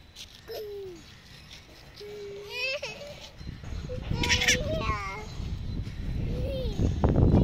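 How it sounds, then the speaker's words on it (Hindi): A goat bleats in wavering, nasal cries, several calls spread across a noisy outdoor scene, with voices and rustling underneath. "बकरी आई, बकरी आई।"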